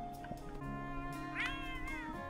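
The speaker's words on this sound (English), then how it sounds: "There's a kitty in here." A cat meows in the video game Chicory, a single drawn-out tonal meow over steady game music, close and clear with no talk.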